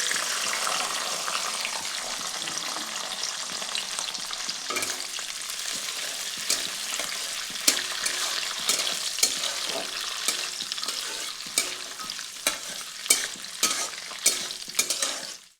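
Soaked cashews fry in ghee in a kadai for Bengali basanti pulao, a continuous close sizzle overlaid by repeated scraping and stirring strokes that grow more rhythmic toward the end.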